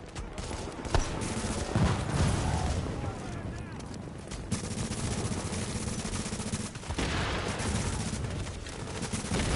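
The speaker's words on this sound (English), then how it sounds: "I can't see the turret that's shooting at us." Steady turret gunfire in a PS4 video game, a dense rattle of shots running throughout at a slow fire-and-reload pace, with a voice talking over it.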